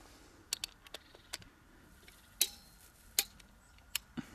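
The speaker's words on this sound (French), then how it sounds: "il y a un petit claquement qui vous dit qu'elle a atteint le couple indiqué" A Unitec torque wrench tightening a bolt gives sparse, sharp clicks spaced irregularly over a quiet background, with a couple of louder snaps, close and alone.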